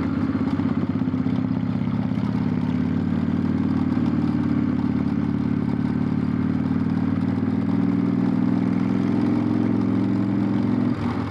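A Harley-Davidson Softail Springer motorcycle engine rumbles steadily and loudly while being ridden, a continuous close low throb with mechanical clatter for the whole stretch and no talking.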